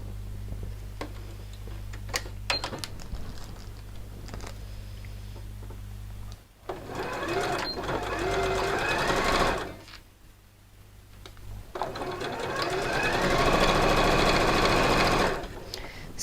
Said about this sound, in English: I'm going to stitch in this crease here